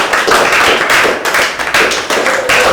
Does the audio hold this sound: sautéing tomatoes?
no